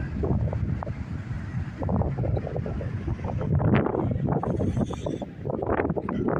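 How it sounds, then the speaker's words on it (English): Strong, cold Pacific coastal wind at Stinson Beach, California buffets the microphone nonstop, a loud rumbling roar with gusts that rise and ease without a break. "Sorry for the wind."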